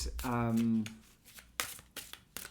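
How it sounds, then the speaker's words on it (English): Quick papery riffles of large oracle cards being shuffled, a few brisk bursts in a row following a short hum of voice at the start. "they shuffle really well as well"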